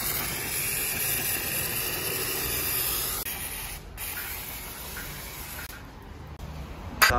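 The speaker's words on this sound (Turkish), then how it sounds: "Yine alttaki bazı yağ kalıntılarını balata spreyi yardımıyla" Brake cleaner sprays steadily onto oily residue on the underside of a car engine in a repair shop, a loud continuous hiss lasting several seconds with brief breaks near the end.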